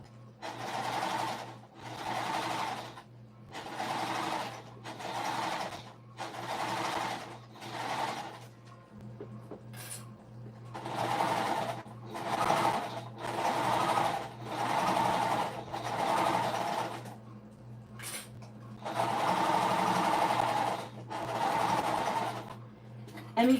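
A sewing machine stitches a half-inch seam through thick Minky fabric on a puff quilt pillowcase, running in repeated bursts of several seconds separated by brief pauses, close and clear.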